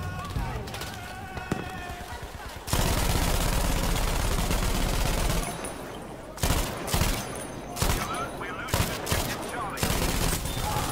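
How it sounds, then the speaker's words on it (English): MG42 machine gun firing in a WWII video game: a sustained, loud ripping burst fills the middle, followed by shorter separate bursts and shots, with a voice talking near the start. "MG42."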